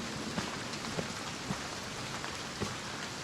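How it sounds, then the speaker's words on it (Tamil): Heavy rain pours down in a dense, steady hiss with a few louder splashes, a continuous downpour and no talking. "என்ன இப்படி பேய் மழை பெய்யுது?"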